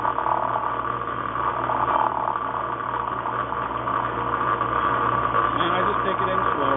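A machine shop machine running in low gear while pin punches are made, a steady low mechanical hum and rumble throughout, close, with someone talking over it.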